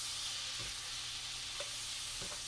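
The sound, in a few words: butter melting and sizzling in a pan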